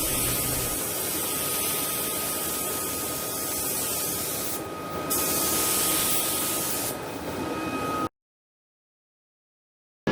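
Spray gun laying white and yellow base coats on Ducati 748 fairing panels: a close, continuous airy hiss with two brief pauses between passes, then silence at the end.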